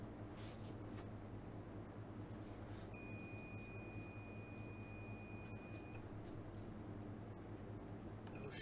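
A multimeter in buzzer continuity-test mode, checking a dead Star Sound car amplifier, gives off a thin high steady beep lasting about three seconds, faint against a quiet background hum.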